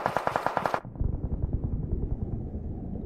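Rapid automatic gunfire from the mobile battle royale game BGMI, a dense burst of close, loud shots that drops into a lower, rumbling volley of continued fire.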